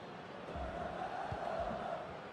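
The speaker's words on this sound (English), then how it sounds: "I know the crowd are certainly making themselves heard." Stadium crowd in FIFA 20 during a LaLiga match between RCD Espanyol and Sevilla FC, a low, steady murmur of fans heard faintly in the background with a few soft low thumps.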